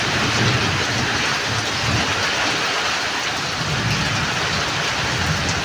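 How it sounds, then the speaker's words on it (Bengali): A heavy downpour falls across rural paddy fields with date palms, a dense steady roar of rain layered over low, rolling thunder that swells and fades. "প্রচণ্ড পরিমাণে মেঘ ডাকছে।"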